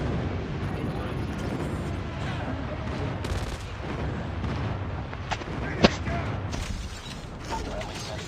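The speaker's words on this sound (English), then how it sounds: "Enemy airstrike incoming." Enemy airstrike explosions in a first-person shooter game, heard as a steady rumbling barrage with a few sharper bursts near the end, set under continuous gunfire and game voice callouts.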